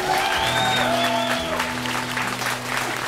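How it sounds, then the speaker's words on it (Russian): An audience at a Russian rock concert applauds steadily, a dense wash of clapping with faint tonal sounds from the stage mixed in throughout. "Вот, вот, аплодисменты"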